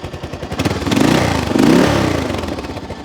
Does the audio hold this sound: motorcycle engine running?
yes